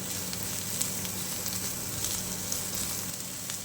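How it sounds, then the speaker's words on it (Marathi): Onion and capsicum stir-frying on a high flame, with a steady, close, even sizzle and a few faint ticks of stirring throughout. "इथे मी कांदा आणि शिमला मिरची घातलेली आहे आणि ती सुद्धा छान परतून घेऊया"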